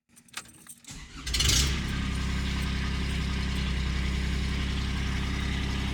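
A Kubota diesel engine fitted in a Saturn SC1 cranks briefly after glow plug warm-up, catches with a surge, then settles into a steady, even close-up idle that continues alone.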